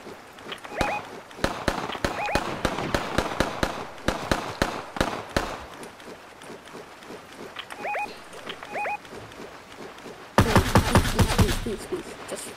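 Gunfire rattles through a squads battle royale shooter match: rapid bursts and single shots repeat across the clip, ending in a loud, dense volley, with short electronic game beeps in between.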